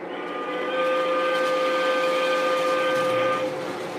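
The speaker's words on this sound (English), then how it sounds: "Here's the air horn we were just talking about." Real Toy Trains Hancock air whistle on a toy train layout sounds one steady, loud chord for about three seconds, multiple clear tones held together, then cuts off.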